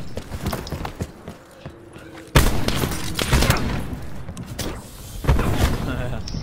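A sniper rifle shot in the shooter game Black Ops 4 cracks sharply out of busy match audio, with a second loud burst a few seconds later and people talking throughout.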